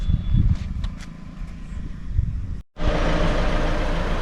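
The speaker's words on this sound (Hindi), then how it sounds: "तो हम गाड़ी स्टार्ट करते हैं और चलते हैं गांव के तरफ" A road vehicle on a trip from Darbhanga toward a village near Patna, with engine rumble and road noise, a brief cut, then a steady louder drive-away rush of motor and tyres.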